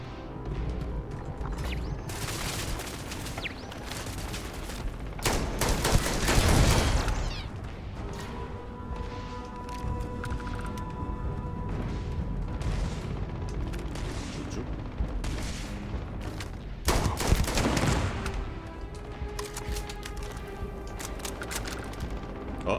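A companion's gunfire during a Starfield firefight: repeated bursts of shots and heavy booms over a steady mechanical, humming background, with louder blasts near the start and again about two-thirds of the way through.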